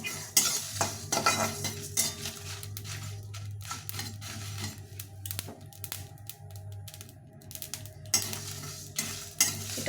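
Spice mix for raw mango pickle, with mustard seeds, fries in a pan while a utensil stirs and scrapes, giving repeated metallic clinks over a low, steady sizzle.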